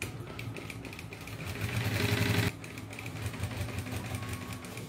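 A sewing machine runs while stitching a fabric handbag, a faint, steady mechanical whir that grows louder for a moment in the middle and then settles back to a low, even hum.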